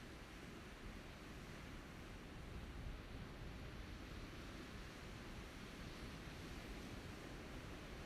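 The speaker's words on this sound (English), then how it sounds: "why ambient sound sounds like the sea now? Because the beach is right there." Sea waves washing in from a nearby beach beside the Starship SN9 launch site; a faint, steady surf wash, distant and unbroken, with no voices heard.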